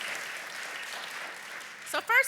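A podcast audience claps, a moderate, fairly soft round of applause that tapers, with a voice starting to speak at the very end.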